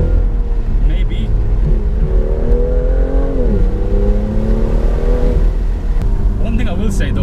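A 2018 BMW M2 engine drones while driving, its pitch rising and falling smoothly with gentle throttle changes, loud and close from inside the cabin, with a few light pops and clicks near the end.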